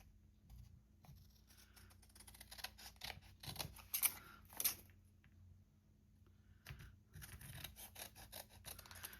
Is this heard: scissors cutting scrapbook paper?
yes